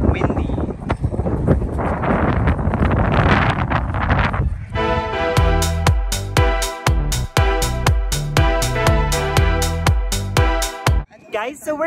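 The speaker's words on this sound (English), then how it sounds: "Oh, it's so windy." Gusty wind in Washington, D.C. rumbles hard against the microphone for several seconds before music with steady rhythmic chords takes over.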